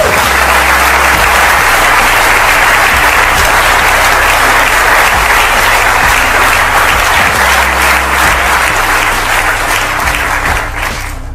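Audience applause in a hall, loud and dense clapping sustained for about eleven seconds before easing slightly at the end, with no talking over it.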